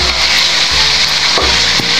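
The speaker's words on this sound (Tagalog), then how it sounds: "Tapos haluin na po natin lahat kasi medyo malambot na yung kamatis." Tomatoes and bitter gourd saute in a pan for ginisang ampalaya, a loud steady sizzle with a few scraping stirs from a spatula.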